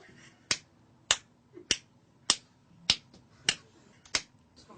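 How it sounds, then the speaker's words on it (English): Seven sharp, evenly spaced hand claps, about one every 0.6 seconds, sound close and crisp in a quiet room, used to pick a floor in an elevator that is operated by clapping. "Please clap the amount of corresponding to your selected floor."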